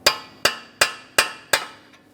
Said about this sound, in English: We'll use a hammer and punch directly in the center of the axle to break it free from our wheel bearing.